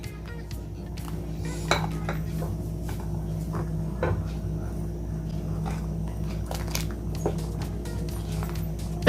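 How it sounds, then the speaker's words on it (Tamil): Sugar being stirred into milk for homemade milk sharbat, a spoon clinking and scraping against the vessel in a quick irregular rhythm, close and fairly loud over a steady kitchen hum, no talk. "நம்ம எடுத்து வச்சுருக்க சுகர் மிக்ஸ் பண்ணிடலாம்."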